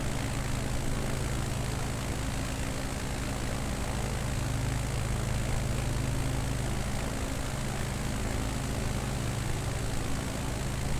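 A propeller aircraft engine droning in Microsoft Flight Simulator 2020 on a Nevada bush trip, a loud, steady, unbroken hum with no talk over it.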